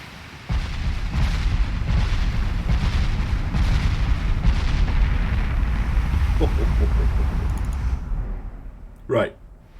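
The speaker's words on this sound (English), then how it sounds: "Right, here comes the full broadside." Massive main guns of a battleship unleash a full broadside in Ultimate Admiral Dreadnoughts, a rolling series of deep booming blasts that rumble on for several seconds, with a voice talking over it and a quieter tail at the end.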